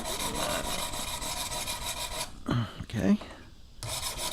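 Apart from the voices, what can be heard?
sharpening Zwickey broadhead on a sharpening stone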